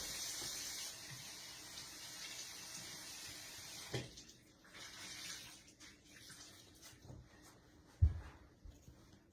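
Hot water runs steadily from a tap with a broad hissing wash, broken by a couple of soft knocks and clunks.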